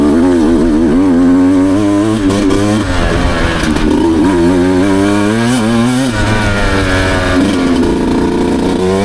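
A Beta Xtrainer 200 two-stroke dirt bike engine revs hard and loud close by, pitch climbing and dipping repeatedly as it is held high in the upper revs, with no talk over it.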